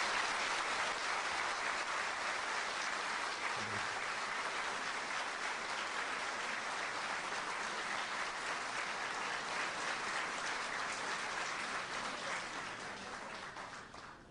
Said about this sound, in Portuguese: Eu vou pedir a vocês uma salva de palmas para ela.